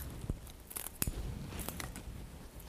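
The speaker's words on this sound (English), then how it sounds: "And just give it a little cut." A couple of crisp scissor snips cut through the binding while tying a citrus hand-tied bouquet, close and fairly quiet with light rustling between the cuts.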